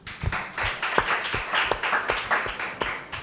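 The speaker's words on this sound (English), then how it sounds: "Please clap for yourselves." Audience applause at a legal technology festival, a steady patter of many hands clapping together for about three seconds, with no talking over it.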